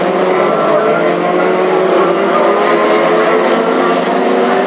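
Classic hot rod race cars circle a track at Hednesford, a continuous loud roar of several engines droning together with steady, unbroken intensity and no clear pass-by peaks.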